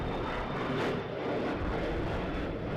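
An airplane engine roars at Edinburgh Airport, a steady, broad, continuous rumble that holds at an even level throughout, with no voices.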